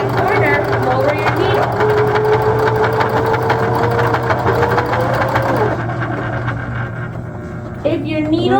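A sewing machine stitches a beginner's tote bag with a steady, close mechanical hum that slows and stops near the end, while a person talks over it throughout.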